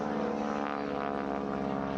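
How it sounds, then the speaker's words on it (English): A biplane with a 450 horsepower Pratt & Whitney radial engine flies a wingwalking display at an air festival, giving a loud, steady, close propeller drone with a rich, unbroken engine roar. "the noise of that 450 horsepower Pratt & Whitney engine absolutely gives me joy every time I hear it"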